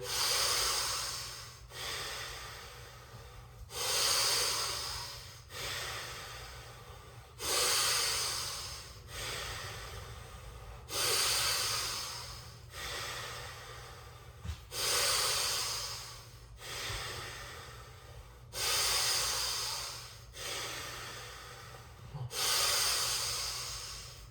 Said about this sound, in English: Breathing all the way in, letting it go, all the way in.